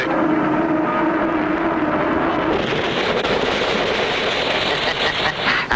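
A burning aircraft comes down in a cartoon crash landing, a loud roaring rush that builds into a dense, crackling blast and holds steady to the end.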